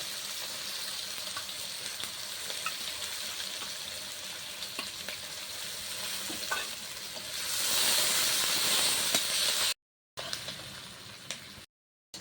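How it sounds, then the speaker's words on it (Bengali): Onions frying in oil with black cumin, a continuous hissing sizzle with occasional stirring taps, growing louder and steamier before two brief dropouts. "পেঁয়াজটা একদম বাদামি কালার করে ভেজে নিব।"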